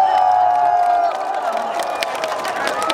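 A concert audience at the Gyeongnam charity music show claps and cheers, a crowd of applause with scattered shouts that swells, dips slightly, then builds again.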